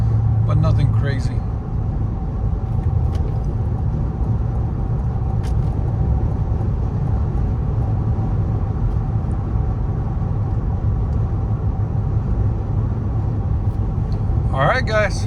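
A 2023 GMC Yukon Denali with a 6.2L V8 and a Flowmaster Flow FX cat-back exhaust gives a steady, muted low rumble that holds throughout, with brief voices at the very start and end.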